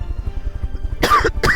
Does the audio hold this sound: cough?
yes